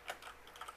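Code being typed on a computer keyboard, a quick, faint run of about half a dozen light key clicks within under a second, with no voice.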